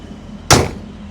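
One solid thud of a 1970 Chevy C10 pickup's door shutting nearby, sharp and loud against a quiet background hum.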